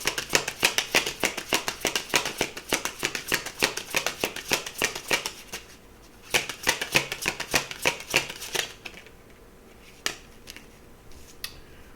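Tarot cards are shuffled close by in quick rhythmic bursts of crisp riffling and flicking, with a short pause, another flurry, and then a few sparse card taps.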